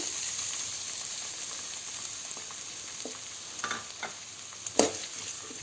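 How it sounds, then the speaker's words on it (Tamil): Shallots and garlic dropped into hot oil with fenugreek and cumin for an egg drop curry, giving a faint steady fry with a few soft sharper crackles and stirring knocks. "வெந்தயமும் சீரகமும் பொரிஞ்சதும் நம்ம எடுத்து வச்சுருக்கிற சின்ன வெங்காயம், பூண்டை போட்டுக்கலாம்."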